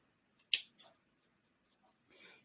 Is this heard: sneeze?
no